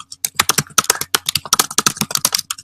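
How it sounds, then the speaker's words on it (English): Rapid typing on a computer keyboard, a dense run of crisp, closely spaced key clicks heard up close with no voices. "Let me type that real quick."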